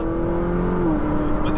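Steady engine roar from a Ferrari 458 with a naturally aspirated mid-engine V8, its pitch holding then dropping slightly as it runs, fairly loud and continuous with a muffled exhaust tone.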